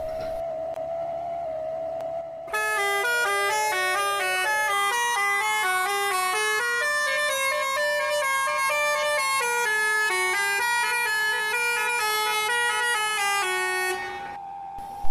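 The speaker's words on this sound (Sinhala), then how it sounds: "බලමු හෝන් එකක් ගහලා" A bus horn in the Driving Simulator Sri Lanka video game plays a long melodic run of shifting tones for about twelve seconds. It sounds loud and close, with no talking over it.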